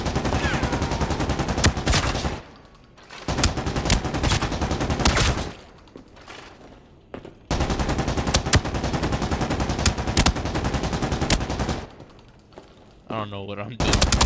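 Repeated full-auto hip-fire bursts from an FAL rifle in the shooter game Arena Breakout, loud and close, several sustained strings of rapid shots broken by short pauses, with a brief reload-like clatter near the end.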